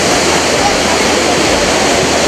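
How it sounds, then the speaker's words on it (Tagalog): Roaring rush of Shirahige Waterfall in Japan, partly frozen, a steady loud broadband wash of falling water that continues without pause. "Tubig."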